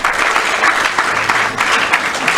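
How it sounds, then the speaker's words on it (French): A seated audience applauds a professor at a book presentation, with steady, dense clapping sounding fairly loud and close throughout, no voices standing out. "s'il te plaît, applaudis encore pour le professeur Akoda."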